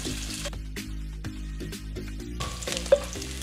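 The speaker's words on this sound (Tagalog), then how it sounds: "tapos ilagay natin yung tapos sunod natin tong sibuyas" Chopped onion drops into hot olive oil in a home kitchen pan and sizzles steadily and loudly, with a brief sharp clink near the end and no talk.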